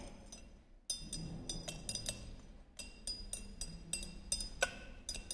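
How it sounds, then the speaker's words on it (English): Glass rod clinking against glass Nessler cylinders while standard and test solutions for a chloride limit test are stirred; repeated light, bright taps and scrapes in an irregular rhythm, close by with faint room background. "Now the next step is to stir these standard and test solutions"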